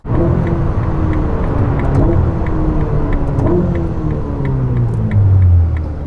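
Ferrari SF90 hybrid supercar with an 8-speed dual-clutch gearbox, heard from inside during a ride: a loud, steady engine drone with rising and falling pitch as it accelerates and shifts, continuous throughout.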